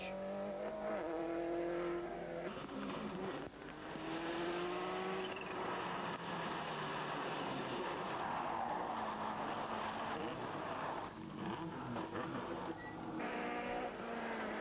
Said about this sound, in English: In his newly acquired Subaru Impreza WRC, Paddy White is not taking any chances